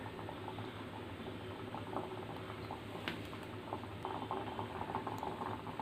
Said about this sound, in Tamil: சர்க்கரை பாகு கொதி வரட்டுங்க.